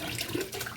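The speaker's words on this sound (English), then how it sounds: "So I'm going to pour the whole bottle in" A whole bottle of fabric dye poured into hot water in a sink gives a soft, continuous splashing trickle, fairly quiet and unbroken by speech.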